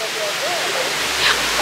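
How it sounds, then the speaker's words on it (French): Steady broadband rush of a waterfall in Guadeloupe, constant and fairly close, with faint voices and a brief higher splash or whistle near the end. "C'est vraiment une des plus belles cascades de ma vie."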